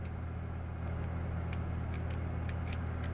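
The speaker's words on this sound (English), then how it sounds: "I'm going to take these scissors, go a little bit here, you're going to go right in between that slit" Scissors snipping yarn on a Clover pom-pom maker, several small crisp cuts spaced unevenly over a steady low hum, close and fairly quiet.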